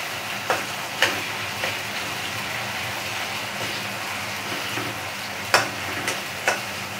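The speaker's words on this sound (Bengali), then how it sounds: "আগে পটল দেব, আর একটু নেড়ে দিলাম পেঁয়াজ টমেটো।" Pointed gourd pieces frying with onion and tomato in a pan over a gas flame on high heat, giving a steady sizzle with a few sharp scraping stirs scattered through it.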